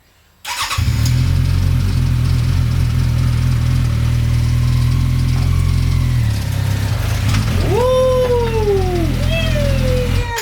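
A homemade go-kart engine starts abruptly and runs loud and steady, then its pitch swoops up and down twice near the end as the throttle changes.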